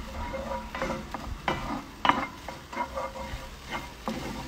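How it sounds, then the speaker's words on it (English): Onions softening in a skillet with chili, garlic and chili paste, frying with a steady sizzle while a utensil stirs and knocks against the pan in an uneven rhythm. "in our skillet, we have softening up those onions."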